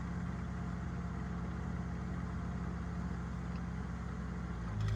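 Ford 8N tractor plowing a small garden and breaking up clumps, its engine chugging at a low, steady, rhythmic idle close by, with a brief louder rumble right at the end.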